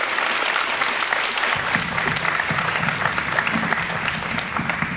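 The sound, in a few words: audience applause for young writers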